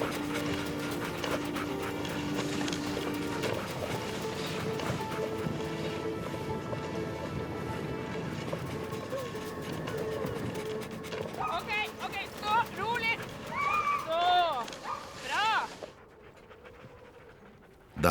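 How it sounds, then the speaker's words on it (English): Huskies pant and shuffle close by in the Norwegian taiga, with rapid breathing under steady background noise, followed by excited yelps and whines toward the end. "The huskies are hungry"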